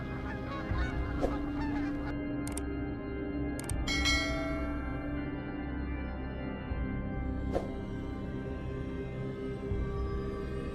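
Wild geese honking in Texas, a few sharp calls rising over a low steady background hum, scattered across the stretch with longer quiet gaps between them.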